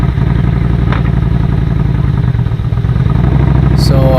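Motorcycle engine running at a steady idle-to-low rumble, loud and close, with a constant throbbing drone and a brief brighter sound near the end.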